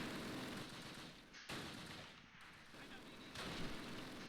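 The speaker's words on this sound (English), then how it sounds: "We're drawing fire here." Gunfire and artillery in the Close Combat Last Stand Arnhem video game, a dense, harsh wash of shots and blasts with abrupt cuts, faint and continuous.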